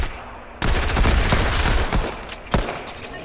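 Rapid bursts of gunfire from an online shooter played on PS4, a dense rattling volley up front with sharp louder shots near the end.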